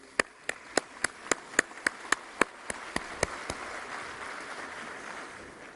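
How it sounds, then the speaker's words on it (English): About a dozen sharp, evenly spaced claps ring out at a conference's opening plenary session, slowing slightly and fading away to quiet room noise. "Another round of applause, please."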